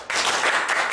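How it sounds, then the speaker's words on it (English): Men in a live comedy mind-reading show audience clap together on a count of three, a dense burst of applause starting abruptly and sustaining for about a second, fairly loud and close. "So first we'll see how wonderfully the men as a whole can clap on the count of 3."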